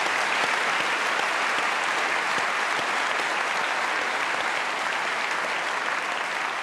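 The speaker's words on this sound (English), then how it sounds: "Give yourselves a round of applause." Sustained audience applause fills the clip at a steady, dense level from start to finish, closing a university Q&A session about polio.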